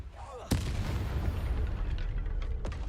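Spell blasts in the video game Hogwarts Legacy: a sharp explosive crack, then a sustained rumbling burst and a few smaller pops, loud and close.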